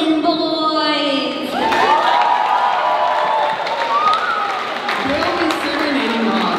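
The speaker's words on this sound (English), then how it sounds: "a big round of applause for none other than the Norton Boys" An audience at a summer program talent show breaks into applause and cheering, a dense loud crowd clatter with whoops and shouts rising after a voice briefly over the start.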